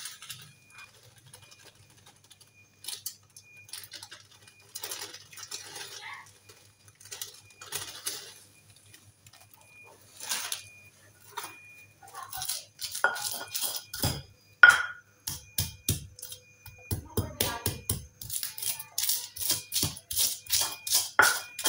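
Spices are pounded and ground in a stone mortar and pestle (ulek) for a pumpkin vegetable dish, irregular light tapping clicks that grow into a quick rhythmic series of close, crisp knocks.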